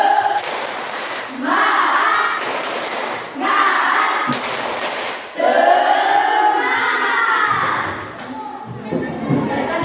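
A class of students performs a spirit clap chant, rhythmic group clapping in bursts with children's voices chanting together, loud and close.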